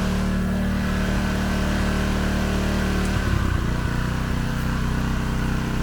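A Dnipro-M petrol generator runs steadily in eco mode, a continuous close engine drone with a low, even hum that roughens and shifts briefly partway through before settling back, with no talking.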